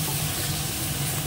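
Water poured into a hot cooking pot with turmeric, giving a steady, close hiss that fills the whole moment without pause.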